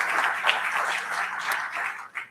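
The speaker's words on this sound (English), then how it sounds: "Let's give our panel members another round of applause." An audience applauds panel members at a public service civic event, a dense, steady patter of many hands clapping together, sustained and moderately loud before tapering off.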